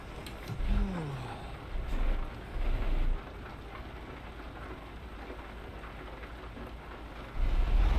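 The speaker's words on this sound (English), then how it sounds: "I also typically drive with windows down so I can actually hear the rain" Rain drums steadily outside a truck cab with its windows down, a continuous hiss of drops mixed with low road rumble and a few louder thumps.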